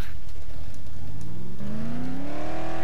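A car in Dead Island revs and accelerates hard, its engine pitch climbing steadily and loud, with no one talking over it.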